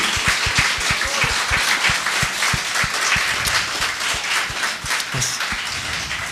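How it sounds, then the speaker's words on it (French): Enthusiastic applause from an audience, dense rapid clapping sustained throughout at a loud, steady level. "une bonne main d'applaudissements pour François Terrien"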